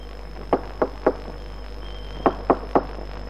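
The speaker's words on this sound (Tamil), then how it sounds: "மறுபடியும் கதவு தட்டப்படுற சத்தம் கேட்டது." Knocking on a door, heard alone in a quiet room: one set of three sharp raps, a short pause, then a second set of three, crisp and close.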